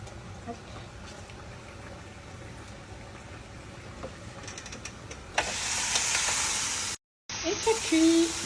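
Food cooks on a hot panini grill plate, giving a steady broadband sizzle that swells louder partway through and carries on continuously with faint background noise.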